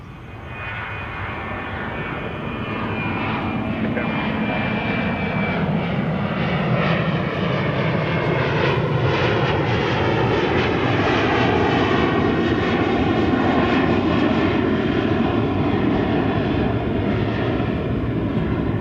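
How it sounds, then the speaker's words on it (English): An Airbus A321 airliner takes off at DFW Airport, its engine roar swelling from a rising whine into a loud, sustained, broadband rush that holds steady and close with a sweeping tonal shift as it passes. "American 2958, an Airbus A321 going to Fresno"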